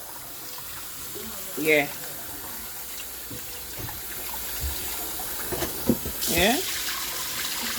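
Tap water runs steadily while rice is rinsed and rubbed for Jamaican rice and peas, a continuous wash of flow heard close with brief spoken remarks over it.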